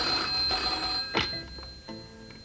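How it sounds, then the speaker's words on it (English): A telephone bell rings in a short burst, fairly clear and close, then trails off with some faint background noise. "that phone's never stopped ringing"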